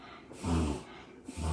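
A dog with something stuck in its nose gives two loud, rough snorting bursts, close by in a home kitchen, with a brief pause between them and no talking.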